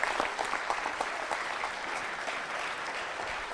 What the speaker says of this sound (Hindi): तालियां जोरों से बजनी चाहिए